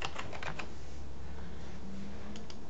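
Quick bursts of keystrokes on a computer keyboard, close and clear, a short run of taps with a steady background hiss.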